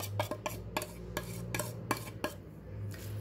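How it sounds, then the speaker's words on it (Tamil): A paneer sandwich filling being mixed with spices, a rapid series of light utensil taps and scrapes against a bowl over a low steady hum, close and quiet, with no talk. "நல்லா கலந்து விட்டுக்கோங்க."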